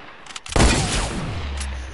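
A loud gunshot burst in Fortnite, a sharp crack followed by a long booming rumble that slowly fades, with a faint second report near the end.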